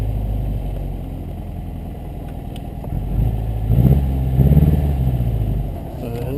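A 1952 MG TD's engine idles with a low steady rumble, then picks up gas in two short, modest revs before settling back to idle, heard close.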